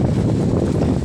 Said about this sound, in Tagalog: Lakas pa hangin